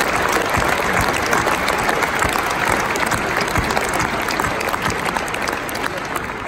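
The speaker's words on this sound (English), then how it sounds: "I would like to have applause for Frido Ogier, Bram Bauers and Dick Jansen" An audience at the KLM 100-year celebration breaks into sustained, dense applause, a crowd clapping loudly and evenly throughout with faint voices mixed in.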